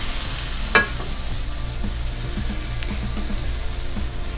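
Butter and olive oil sizzle steadily in a pan as they melt, a close, even crackling hiss with a few faint clinks and stirring sounds.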